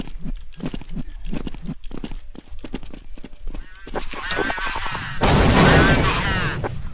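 Video game gunfire: a rapid run of sharp, evenly spaced shots, followed by a louder, denser burst of noise near the end, with voices chattering over the action.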